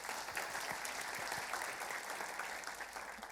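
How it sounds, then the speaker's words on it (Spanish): Steady applause from a church audience welcoming a guest to the stage during a Christian sermon, dense clapping sustained at even loudness throughout. "Un aplauso para Carlitos,"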